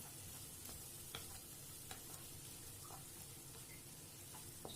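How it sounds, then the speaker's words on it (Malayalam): Liver roast frying in a pan is stirred, giving a faint, steady sizzle with scattered soft scrapes and clicks of a spoon against the pan. "നന്നായിട്ടൊന്ന് മിക്സ് ചെയ്ത് കൊടുക്കുക."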